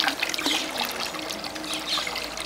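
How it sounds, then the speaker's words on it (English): Water trickles and splashes as it is poured into a low-budget home aquaponic setup, a steady close liquid dribble with no talk. "then I'm gonna start putting water in there"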